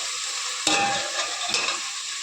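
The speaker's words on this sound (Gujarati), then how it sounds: "તો બટેટાને એને સોતરાતા 5 મિનિટ થઈ ગઈ છે" Potatoes sautéing in a pan give a steady, close sizzle and fry, broken by a couple of brief stirring scrapes, with no voices.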